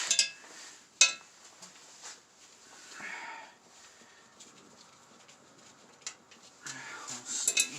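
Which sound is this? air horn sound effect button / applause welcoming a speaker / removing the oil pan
removing the oil pan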